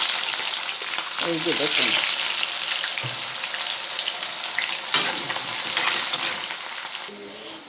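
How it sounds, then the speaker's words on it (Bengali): Chopped onions fry in a pan with whole garam masala and cinnamon for a meat curry, a loud, continuous close sizzle with occasional stirring and a brief spoken remark. "এবারে কুচি করে রাখা পেঁয়াজ তা দিচ্ছি বন্ধুরা"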